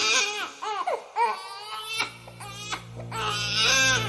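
A baby wails in repeated rising and falling cries, loud and close, with short pauses between bursts and a steady low hum underneath.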